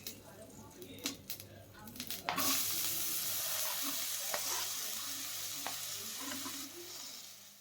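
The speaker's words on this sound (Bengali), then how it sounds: "এবারে আমি মিডিয়াম ফ্লেমে রেখে খুব ভালোভাবে আলুটা লাল লাল করে ভেজে নিচ্ছি।" Potatoes frying in oil over medium flame after a tempering of cumin seeds and dried chili, a loud steady sizzle that bursts in after a few clinks and stirring scrapes, continuing densely with occasional utensil taps.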